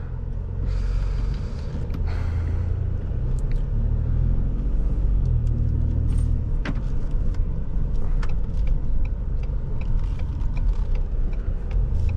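A 2020 Ford Expedition police SUV with a turbo engine drives along, its deep road rumble and engine drone holding steady and loud from inside the cabin, with a few faint clicks and knocks.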